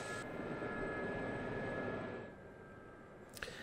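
An SA342 Gazelle helicopter in the DCS flight simulator hums with a steady turbine whine and drone while landing, then the engine tone drops away, with a short thump near the end.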